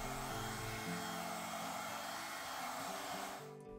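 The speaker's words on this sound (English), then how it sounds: "I also warm the build plate with a hairdryer just before starting the print to ensure good adhesion." A hair dryer blows with a steady, loud whirring rush while warming a resin 3D printer build plate, then cuts off abruptly near the end.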